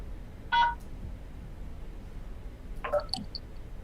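Two short telephone keypad DTMF tones, such as pressing the pound key on an automated phone line, each a brief electronic beep spaced about two seconds apart over faint line hiss.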